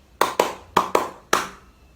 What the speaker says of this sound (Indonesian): Jadi, tepuk 1 bunyinya seperti ini.